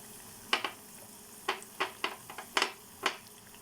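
Mirchi bajji, stuffed green-chili fritters, go into hot oil for a second frying, giving about seven sharp sizzling crackles in uneven bursts against a quiet, faintly hissing background.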